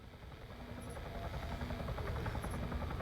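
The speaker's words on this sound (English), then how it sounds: "Oh no. There's a helo." Helicopter in the video game Arma 3, a low rotor and engine drone that slowly swells louder, heard without speech.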